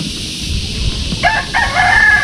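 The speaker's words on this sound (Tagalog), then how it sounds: "ang dami nilang manok" A rooster crows close by among many chickens at a rural Philippine house lot, a bright drawn-out call breaking over a low background murmur.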